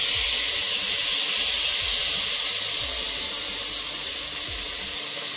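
Duck fat in a pan over a water bath gives a steady, dense hissing sizzle with steamy bubbling beneath, continuous and close throughout.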